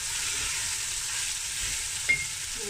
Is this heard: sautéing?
yes